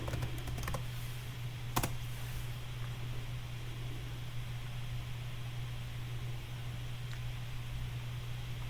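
Keys clack on a computer keyboard as text is typed in a quick cluster near the start, then only a steady hum of room noise remains.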